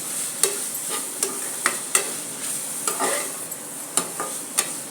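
Garlic frying in a pan, with a spoon or spatula scraping and stirring in regular sharp strokes over a steady close sizzle.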